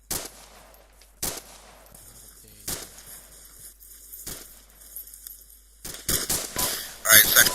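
Suppressing gunfire rings out in a military ArmA 2 battle, with sharp isolated shots spaced across several seconds, then a denser burst of rapid fire near the end.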